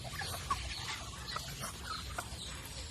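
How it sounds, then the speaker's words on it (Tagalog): Hens, mixed with turkeys and ducks, cluck softly in a noisy outdoor poultry yard, scattered short calls over a steady low background rumble. "ito mga manok natin"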